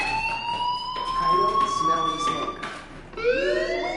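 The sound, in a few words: fire alarm ringing in video game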